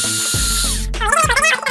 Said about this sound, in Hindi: तो उसके लिए मेरे पास ये ड्रिल मशीन है